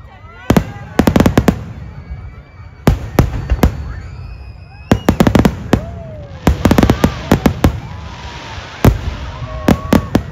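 Fireworks at the Amaravati Drone Summit 2024 show crack in loud, sharp clusters of rapid bangs separated by short gaps, with faint crowd noise beneath.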